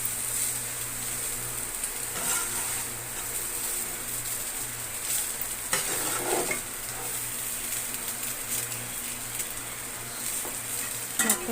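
Carrot rice stirred in a sizzling pan, a steady frying hiss with scraping spoon strokes and light utensil clinks throughout, close and continuous, no talking.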